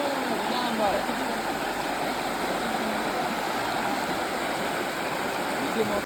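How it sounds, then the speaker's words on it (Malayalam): River water flows steadily in a broad, constant rushing wash at Kuruvanpadi in Attappadi, close by and unbroken from start to end with no talk over it. "ഒഴുകി പോകുന്ന വെള്ളമാണ് നമുക്ക് വൃത്തിയുള്ള വെള്ളമാണ്"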